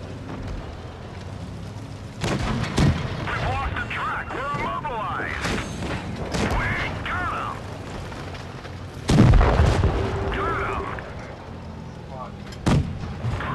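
Gunfire and cannon blasts in a tank battle video game, several loud booming shots at irregular intervals, with players talking over the action between them.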